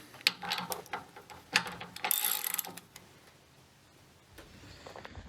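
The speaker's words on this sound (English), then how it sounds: "now our final job is to just tighten off these pivot bolts on both sides of the machine" A wrench ratchets in clicking bursts while pivot bolts are tightened on both sides of a Scott Bonnar 45 reel mower in a shed, close metallic ticks and a brief brighter scrape between them.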